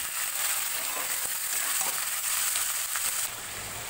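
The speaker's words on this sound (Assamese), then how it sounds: "তাৰপিছত মাংসখিনি ভালদৰে লৰাই থাকিম অলপ সময়।" Chicken pieces sizzle and stir-fry in a hot pan for a colocasia chicken dish, giving a continuous loud hiss of frying oil. Occasional scrapes and light knocks from stirring break through near the end, with no talking.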